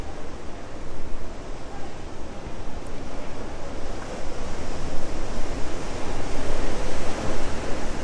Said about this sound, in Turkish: Bazen bayağı bir dalga geliyor ve içlere doğru